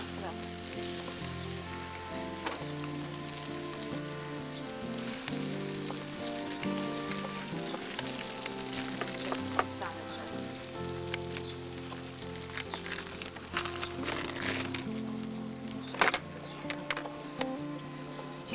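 Meat sizzling steadily in a hot pan, a dense continuous crackle and hiss at close range with occasional louder pops, no voices over it.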